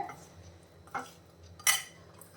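Coconut and other ingredients are mixed in a bowl, giving a couple of sharp, isolated spoon-on-bowl clinks against a quiet kitchen background.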